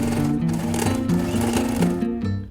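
A sewing machine runs steadily as it stitches all around a fabric box-base pouch, its motor humming loud and continuous with a fast rhythmic needle chatter and slight changes in pitch, with no talking.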